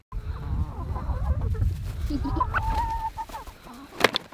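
Chickens cluck nearby in a farmyard in a string of short, close calls. A person gives a brief exclamation partway through.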